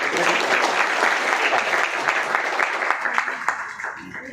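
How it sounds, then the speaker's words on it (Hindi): Loud, enthusiastic clapping from a seminar crowd in Faridabad, a dense burst of many hands that stays strong, then thins into scattered individual claps and fades near the end. "बड़ी एक बार जोरदार ताली बजा दो।"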